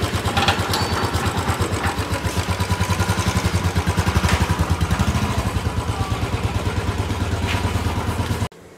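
A gun grey Royal Enfield Classic 350 motorcycle idles close by with a loud, steady thumping beat and mechanical clatter that stops abruptly just before the end.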